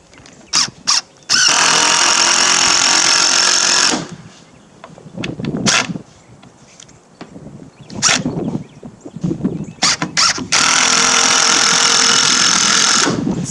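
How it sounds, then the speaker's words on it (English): Impact driver sinking screws into a tin roof during a rusty roof replacement, two long loud whirring, hammering bursts of several seconds with short clicks and handling knocks between them, close up. "And then impact driver, try to keep my knee out of the way."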